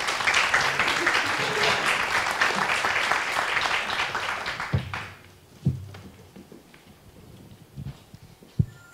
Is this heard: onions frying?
no